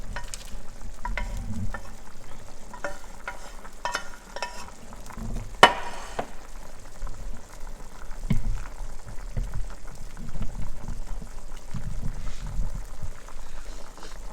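A pot of vegetable beef stew with potatoes simmers at a rolling boil, giving a steady low bubbling and gurgling with occasional stirring clinks, moderately close and continuous.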